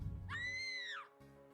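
A high, wavering woman's scream rises and sustains for under a second, then breaks off, leaving a low hum behind it, a horror sound effect.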